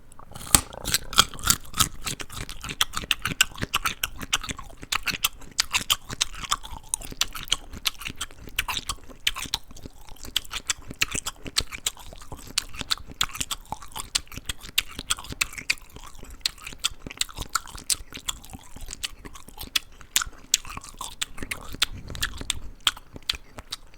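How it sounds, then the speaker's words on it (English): Close-miked ASMR eating of crunchy food: a long run of dense, crisp crunches, bites and chomping mouth sounds, steady and intimate throughout with no talking. "some people really like when you are chewing, when you have that chewing and crunching and chomping"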